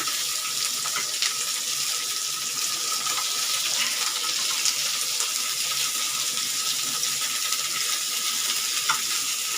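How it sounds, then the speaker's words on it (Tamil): Onions and tomatoes fry and get turned in a pan while a soya chap masala base is cooked, giving a steady close sizzle with scraping stirs and light water-like crackle throughout. "வெங்காயம் பாருங்கள் ஒன் சைடு கோல்டன் ஆயிடுச்சு நான் திருப்பி வச்சிட்டேன் அதே மாதிரி தக்காளியும் நம்ம திருப்பிக்கலாம்"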